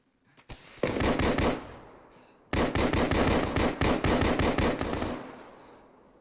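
Two long bursts of rapid automatic gunfire ring out in a military video game, each a dense, loud rattle of shots lasting a second or two, with a couple of single reports ahead of them and a brief pause in between.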